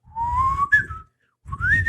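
A human voice whistles in imitation of the Clangers, the little space creatures from the children's show: two rising, sliding whistled phrases separated by a short pause, close and fairly loud, with no talking.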